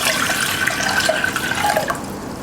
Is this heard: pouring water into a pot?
yes